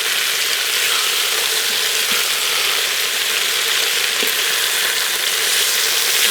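Oxtails searing in a hot pan, a loud, dense, continuous sizzle heard close up with faint ticks and no talking.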